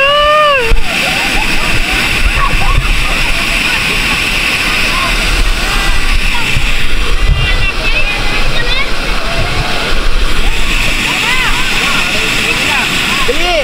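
Sloshing and splashing water at a waterfall pool in Bolinao Falls, Pangasinan, under a constant roar of falling water, with excited voices talking and shouting throughout.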